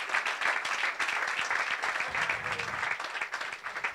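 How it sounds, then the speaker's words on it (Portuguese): Sustained audience applause from a live comedy show crowd, dense steady clapping at full strength throughout with no pause. "Por favor, uma salva de palmas."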